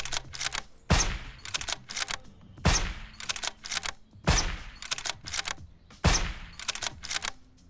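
Gunfire in the zombie survival game Surroundead comes in loud, punchy shots repeating roughly every second and a half, and each blast is followed by a burst of rapid mechanical clatter. The sounds are close and there is no talking.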